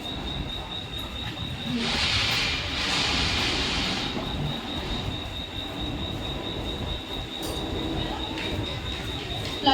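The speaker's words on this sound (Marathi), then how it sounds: "प्लॅटफॉर्म क्रमांक 2 वर आलेली लोकल" Mumbai suburban mini local train bound for Chhatrapati Shivaji Maharaj Terminus pulling into platform 2, steady rumbling rail noise with a bright high squeal of wheels building in the middle, continuous and fairly close.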